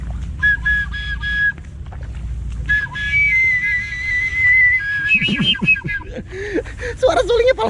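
A bamboo suling flute played outdoors to call wild snakes, thin high sustained notes wavering over rustling background, with people talking over the later part.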